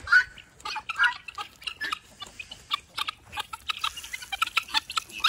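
Backyard chickens squawk and cluck in short bursts while mealworms are handed out, a busy flock of near, uneven calls with no talk over them.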